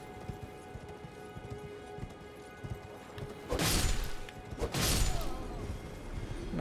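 A horse's hooves clip-clop in the video game Elden Ring, a steady trot under a low ambient bed, followed by two loud heavy crashes near the end with no talk.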